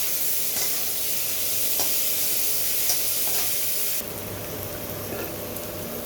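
Chopped onions fry in a pan, a loud continuous sizzle and hiss close up, with a few light stirring scrapes and a sudden drop to a softer sizzle near the end.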